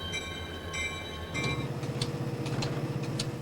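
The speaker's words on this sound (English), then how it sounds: "A new crew comes aboard, and the train moves on." A freight train rolls along the rails with steady rumble and rhythmic clatter of wheels over joints, continuous and fairly close, with a faint high ringing early on.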